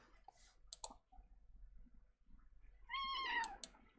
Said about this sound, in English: I don't know why he's still meowing.